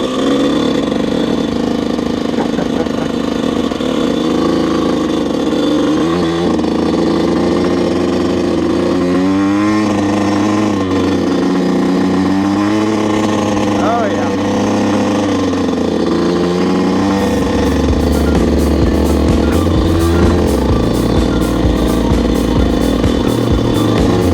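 Yamaha YZ125 dirt bike engine working up a hill, a loud, close two-stroke buzz that rises and falls with revving throughout, harsher and higher toward the end.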